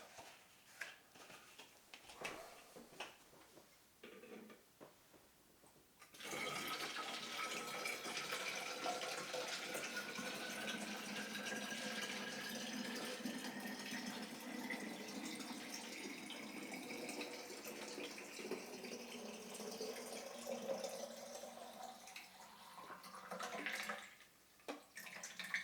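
Water runs steadily from a tap to rinse film developing gear, a continuous close splashing gush that starts abruptly after a few quiet seconds and stops near the end.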